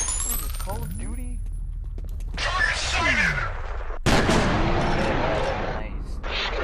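Gunfire in the shooter game F.E.A.R., with several sharp blasts and crackling volleys spread across the stretch, ringing tones between them and a voice talking at times.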